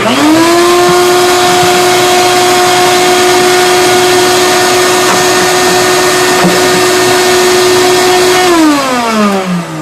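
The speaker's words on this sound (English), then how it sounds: "Very powerful sucking device." A powerful suction device runs during a bridge-system install on a Kay K536N acoustic guitar, giving a loud, steady motor whine that holds one pitch and then winds down near the end.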